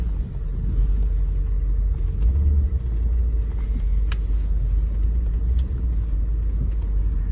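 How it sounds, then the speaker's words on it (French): A Rolls-Royce engine idling steadily after starting, a deep continuous low rumble filling the whole stretch, loud and close with no voices. "Celle-là elle démarre au quart de tour"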